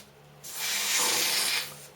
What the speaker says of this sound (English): It is spray grease, so it is kind of runny